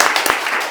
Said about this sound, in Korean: 박수 한번 치고 시작해야 될 것 같습니다.